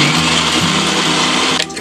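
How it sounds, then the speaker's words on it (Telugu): A mixer grinder whirs loudly as it grinds roasted peanuts, garlic and cumin, a steady close motor drone that drops off abruptly at the end as it switches off. "ఒకసారి మిక్సీ పట్టాలి"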